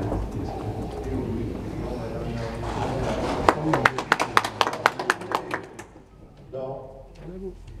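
A short run of sharp, separate claps from the public gallery during a session of the Landes departmental council, heard from the chamber floor. The claps cluster in the middle of the clip, mixed with ongoing talk and room murmur.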